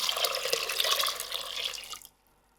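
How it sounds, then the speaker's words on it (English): A liter of water pours into a pot of samp and beans seasoned with salt and bay leaves, a steady close splashing rush for about two seconds before cutting off to near silence. "and an additional liter of water to it."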